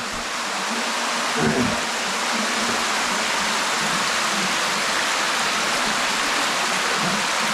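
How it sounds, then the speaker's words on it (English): Water seeps and trickles through the rock walls inside Deadhorse Cave, making a continuous close-up hiss of splashing and dripping, like a small stream or steady rain, with no pauses. "So this water here is just leaking right through the cave walls."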